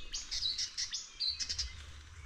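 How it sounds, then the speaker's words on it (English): Birds chirp and tweet in the evening at a family home's land, with bright, repeated calls close by over a low background rumble and no talk. "this place is so cool, like, with the sounds of birds"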